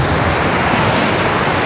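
Dense, steady wash of sea surf breaking on a clean beach on the Black Sea coast of Krasnodar Krai, loud and close with constant roar and some wind noise, no voices.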